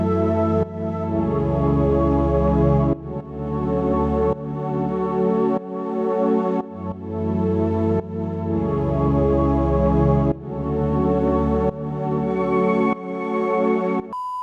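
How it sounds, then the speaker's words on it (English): A big Omnisphere synth pad plays the same sustained chords over and over, with each chord change clearly marked. It is loud, full and steady, alone with no talking. "It's actually just a really big sounding synth."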